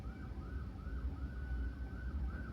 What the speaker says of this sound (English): Oh, there goes the sirens.